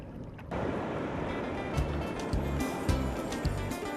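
Ocean waves break at a Bali surf spot in a constant wash-and-roar, with heavy wind buffeting the microphone and soft low thumps recurring every half second or so.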